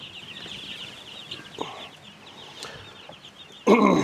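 Newly hatched Cornish cross chicks peep in a continuous high chorus, faint and steady, with a few clicks and a louder rustling thump near the end.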